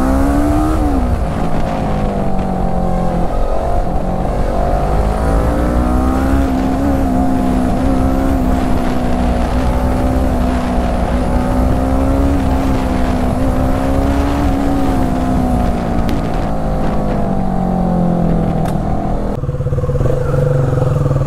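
A Kawasaki Ninja 650 motorcycle engine drones steadily while riding, its pitch rising and falling with throttle changes, loud and close throughout with wind rush and no talk.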